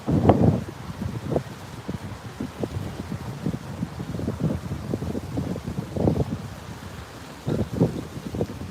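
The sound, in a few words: wind on a beach, wind noise on microphone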